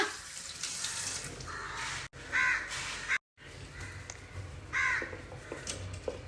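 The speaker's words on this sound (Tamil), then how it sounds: "இப்போ பாருங்க வந்தியாச்சா காக்கை." A crow caws at an open window, three harsh, close calls spaced across a few seconds, with faint running tap water in the background.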